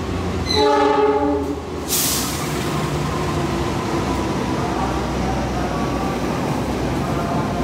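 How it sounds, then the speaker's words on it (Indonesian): The Mataram train arriving at Bekasi Station sounds a loud horn with a squeal of air brakes, then a long steady rumble of railcars rolling past close by. "ada kereta api Mataram juga nih masuk Stasiun Bekasi"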